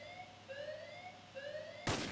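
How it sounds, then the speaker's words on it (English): Police sirens wail in a Roblox robbery game, a rising and repeating electronic siren tone cycling steadily at moderate volume, cut off by a sudden loud burst like a gunshot at the end. "And already there's sirens and gunshots."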